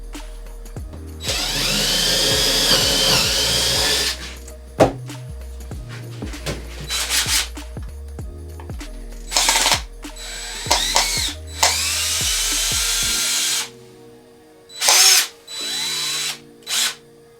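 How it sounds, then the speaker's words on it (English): A power drill whirs in several bursts, one long run then shorter pulses, with scraping and rubbing of wood between, close up, while drilling a small pilot hole. "And you want to drill just a little hole, pre-hole."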